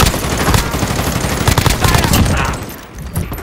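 Rapid automatic gunfire in a Call of Duty: Modern Warfare firefight, loud, dense bursts of shots with sharp cracks running almost continuously before briefly easing near the end, with players' voices mixed in.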